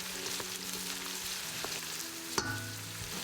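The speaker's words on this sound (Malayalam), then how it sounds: "എണ്ണ നന്നായിട്ട് ചൂടായി കഴിയുമ്പോൾ ഇതിലേക്ക് 1/2 കിലോ സവോള, അതായത് 4 സവോള സ്ലൈസ് ചെയ്തത് ചേർക്കുക" Half a kilo of sliced onions sizzle steadily in hot oil, a soft continuous frying hiss with light stirring clatter and one brief sharper scrape.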